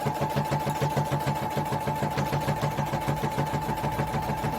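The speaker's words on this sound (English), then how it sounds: "sew up to that pin, backwards and forwards, just to make that a little bit more secure" A domestic sewing machine stitches a seam on a child's cushion, sewing forwards and backwards to secure it: a fast, even mechanical whirr with a rapid rhythmic clatter, close and continuous, with no voices.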